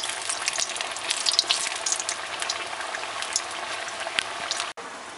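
Maâkouda potato fritters fry in hot oil with a steady, close, crackling sizzle and faint pops, heard alone without talk.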